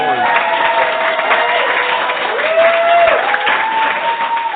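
Studio audience applause and cheering as a sound effect, a steady dense wash of clapping and crowd noise at full level throughout, with a few sustained whistles or cheering tones riding on top.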